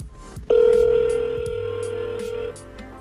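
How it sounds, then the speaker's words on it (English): Telephone ringing on a forwarded call: a loud steady electronic ring tone starts abruptly and holds for about two seconds, then stops, with faint room noise around it. "my other phone's ringing"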